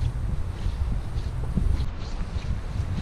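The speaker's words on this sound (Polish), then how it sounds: "wiatr zapieprza" Strong gusting wind on a winter mountain trail, buffeting the microphone in low rumbling bursts that rise and fall continuously, with no clear talk.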